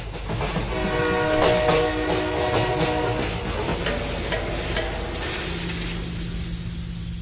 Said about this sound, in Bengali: ঝমাঝম আওয়াজ করতে করতে ট্রেনটা ঢুকল মধুসূদনপুর স্টেশনে